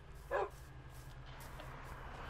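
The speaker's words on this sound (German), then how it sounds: "Ich habe Hundi gezähmt" A tamed dog in the Minecraft video game gives a single short bark, clear and close, followed by quiet game ambience with a steady low hum.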